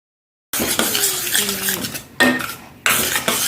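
A spoon scrapes and clinks against a metal pot while coriander powder is stirred into a colocasia leaf curry, in short bursts separated by brief pauses.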